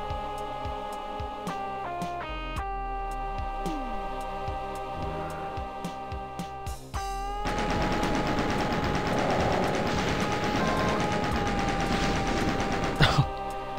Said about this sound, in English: I got a Gatling gun